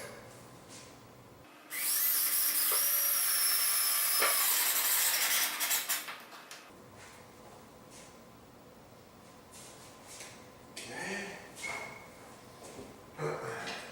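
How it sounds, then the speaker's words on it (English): A power drill driving a screw to fasten a countertop, one loud close whirring burst lasting a few seconds, followed by quieter shuffling and handling noises. "So I'm going to fasten my screw in here first, and then work the shims on that side to get it perfect."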